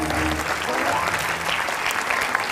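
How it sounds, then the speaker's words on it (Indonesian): Studio audience applause at an Indonesian comedy talk show, a dense, loud wash of clapping that holds steady throughout, with a voice faintly audible beneath it at the start. "Tepuk tangan, tepuk tangan."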